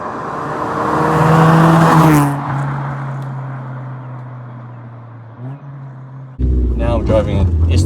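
A Nissan S13 Silvia's SR20DE engine drones and revs near the microphone while driving, rising then settling into a steady hum before a sudden loud burst of acceleration near the end.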